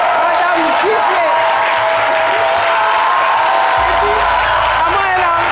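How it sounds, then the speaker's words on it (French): A studio audience on a French midday television show applauds loudly in a continuous wash of clapping with a few shouts, while a voice talks over it. "Merci d'applaudir très fort Madame Gisley"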